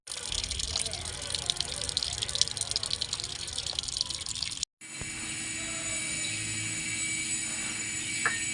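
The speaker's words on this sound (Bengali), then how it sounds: "এখন জলে পরিষ্কার করে ধুয়ে নিয়ে লবণ ও হলুদ মাখিয়ে নেব" Water splashing and trickling as bata fish are rinsed clean, a steady wet gush running close and continuous, broken by a brief cut midway.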